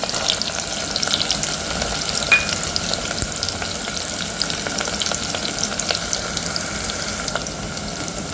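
Curry leaves and peanuts frying in hot oil with onion for Khandeshi masala khichdi, a loud, steady crackling sizzle close by, with faint occasional pops.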